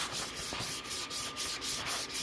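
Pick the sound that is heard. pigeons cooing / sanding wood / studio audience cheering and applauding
sanding wood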